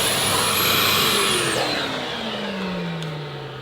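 A Numatic Henry PPR180 vacuum cleaner runs loud and steady as its suction is turned down, the motor whine gliding downward in pitch and the overall roar easing slightly.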